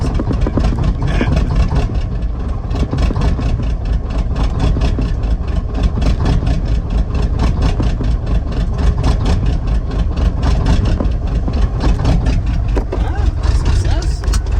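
A 1984 Kenworth C500 truck engine idles right after its first start in 20 years, a loud, steady, close rumble with all cylinders firing, while people talk over it.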